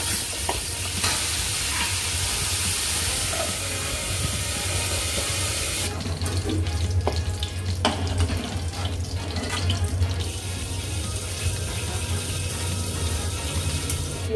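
Boroli fish sizzles in hot oil in a wok, a steady crackling fry that shifts partway through as the pieces settle, close and continuous with no talking.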